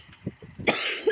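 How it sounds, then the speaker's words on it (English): A person coughs close to the microphone, several short throaty bursts followed by a louder, harsher cough. "so I'm sorry for coughing."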